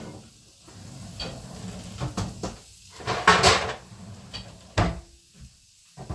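Clattering bumps and scrapes come from a big pan being pulled out of a kitchen cupboard, with a door knocking and metal rattling close by. The sounds arrive in several short bursts over a low background hiss.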